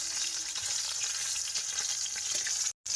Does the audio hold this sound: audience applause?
no